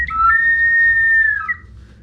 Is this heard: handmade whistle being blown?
yes